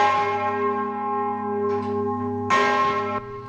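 Church bells of the Torre Civica in Bassano, Vicenza province, ringing together, a sustained harmonic peal with strong resonant tones and a fresh clang struck partway through, loud and steady, no voices.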